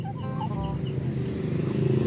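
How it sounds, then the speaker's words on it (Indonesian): Serama chickens cluck repeatedly in a close, busy burst while being caught and loaded into a truck, with steady background noise underneath and no talking. "ini namanya ayam serama teman-teman"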